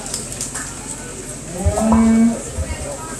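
Steers mooing in a show ring at a junior livestock steer show: one loud, drawn-out low moo rises midway and fades under a background murmur of crowd and arena noise.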